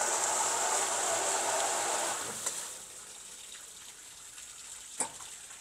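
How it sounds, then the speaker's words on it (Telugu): Water streams steadily through a dirty tank filter, a broad hissing rush that eases and quiets halfway through, with a couple of small clicks. "ఈ ఫిల్టర్లో ఫిల్టర్ అయ్యి అన్నిట్లో పోతుంది నీళ్ళు."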